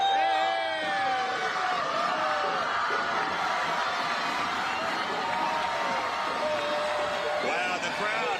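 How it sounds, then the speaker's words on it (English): A large, dense crowd cheers and whoops steadily at a Mardi Gras parade in Galveston as a high school marching unit passes, a loud continuous roar with voices and shouts layered throughout. "Wow, the crowd is giving them some big cheers."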